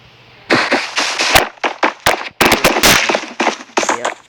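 Gunfire from the Bullet Force video game comes as a rapid series of sharp, loud cracks and short bursts, irregularly spaced over a few seconds, with no talking.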